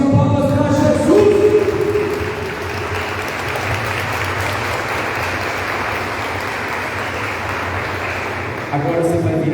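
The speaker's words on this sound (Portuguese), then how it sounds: "Uma salva de palmas para Jesus." A church congregation at Holy Mass breaks into sustained, dense applause lasting several seconds, with singing and voices heard briefly before it starts and again as it fades.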